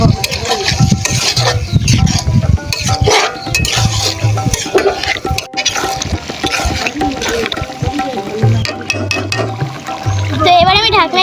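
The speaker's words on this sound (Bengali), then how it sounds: "তো এখন আমি সুন্দর মতো নেড়ে নেব।" Beef tripe stirred in a cooking pot, with a utensil scraping and clanking against the pot in busy, irregular bursts over a dense background of other sound.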